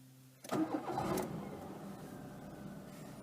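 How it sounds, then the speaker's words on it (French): A Citroën Saxo engine cranks and catches after a brief silence on a cold start, then settles into a steady, rough idle close by. "effectuer le démarrage à froid ou dans la zone concernée"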